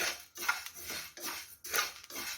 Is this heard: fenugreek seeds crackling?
yes